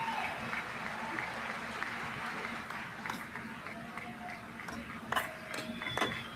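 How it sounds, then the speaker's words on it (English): An audience at a watch party gives light, scattered finger claps and snaps, a steady patter of crisp ticks over room murmur, with a few sharper snaps near the end. "Oh, finger claps."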